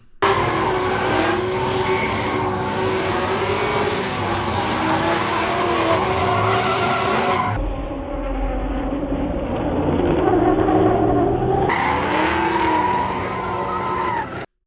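A race car slides toward a wall during a DMCC competition and is pivoted away by left-foot braking, with a loud, continuous engine roar and squealing tires that stay close and constant for about fifteen seconds.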